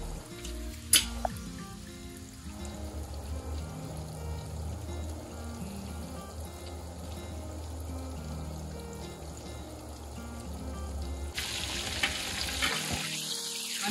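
Coated chicken pieces sizzle steadily in hot oil for crispy fried chicken, a dense continuous frying hiss with a brief sharp clatter near the start and rising bubbling toward the end, with no talking.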